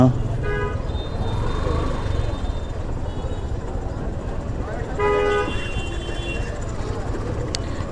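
Car horns honk in heavy Eid-shopping traffic at a busy roundabout in Sherpur after rain, heard from a motorbike: a few short toots near the start and another burst around five seconds over constant engine and road rumble.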